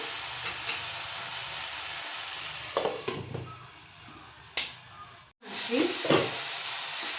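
Brinjal thokku (eggplant relish) sizzles under a lid in a pan, a steady broadband frying hiss with a few clanks and a brief lid or stirring interruption partway through; no talk.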